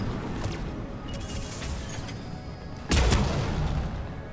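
A sharp, loud sniper gunshot in the video game Mass Effect 3 cracks out near the three-second mark over a steady background rumble, followed by a lingering roar.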